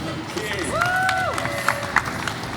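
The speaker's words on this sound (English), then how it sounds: "Please give a very warm welcome and round of applause to Chef Michael Bonacini." Studio audience on a cooking show applauding to welcome Chef Michael Bonacini, a sustained crowd clap under cheering and a loud announcer-style voice with sweeping tones.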